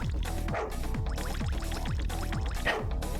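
Small dogs yipping and barking in short repeated bursts over a busy, cluttered background, close and fairly loud.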